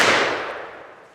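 A Kibler Southern Mountain Rifle, a flintlock loaded from the bag, fires a single loud shot outdoors on an early autumn woodswalk, its sharp report decaying over about a second with no talk.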